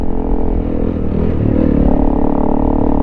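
A Honda CRF300L Rally motorcycle accelerates off-road in third gear, its engine roaring loud and close with a steady rising drone and clattering over bumps, no talking.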